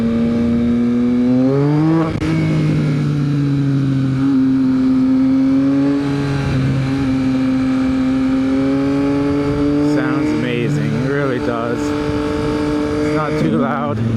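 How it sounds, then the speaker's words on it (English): A 2023 Yamaha XSR900 motorcycle with a Leo Vince exhaust idles loudly and close with a deep, steady rumble, briefly revving up then settling, with a voice speaking over it near the end. "Sound of this bike, I got the Leo Vince exhaust on it."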